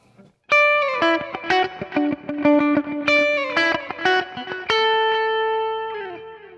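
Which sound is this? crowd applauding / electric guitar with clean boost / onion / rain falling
electric guitar with clean boost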